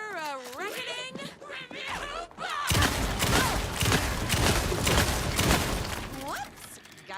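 Rapid gunfire and impacts from a firefight in Alan Wake 2 crackle in a loud, dense burst through the middle, with talking before and after the shooting.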